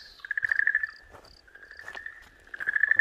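Okinawan green tree frog giving a high, sustained shrill cry in repeated bursts while a snake swallows it, close and fairly loud against a quiet night background.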